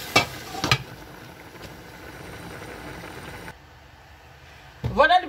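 Onions and tomatoes simmer in a pan for chicken tajine with olives, a steady soft sizzle and bubbling throughout, broken by a few clinks of a utensil at the start and end.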